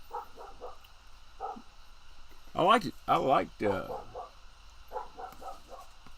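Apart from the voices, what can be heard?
dog barking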